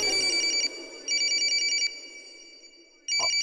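A mobile phone rings in bursts of electronic trilling tones, three rings with short pauses between, close and clear.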